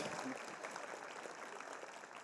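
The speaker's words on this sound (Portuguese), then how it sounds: "Vamos aplaudir ao Senhor pela garota que conseguiu entrar no Gov." A church congregation applauds during a Portuguese-language service, a faint, steady wash of many hands clapping at a distance, holding evenly for about two seconds with no voices standing out.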